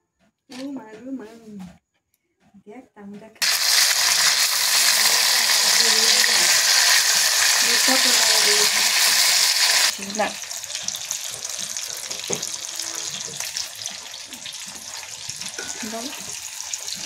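Defrosted barbecue meat fries in oil in an ordinary pan on a stovetop, a loud, steady crackling sizzle that starts suddenly. It then drops to a softer hiss, with a voice talking briefly before it and quietly over the later part.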